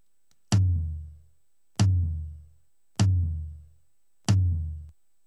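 Four isolated hits on a second tom drum, edited with filtering and short fade-ins and fade-outs, each a sharp, loud attack followed by a clean, quickly decaying boom with silence between.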